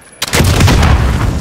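A 12 gauge shotgun fires in Call of Duty Modern Warfare gun game, a loud close blast after a brief quiet moment, followed by a sustained booming, rumbling tail.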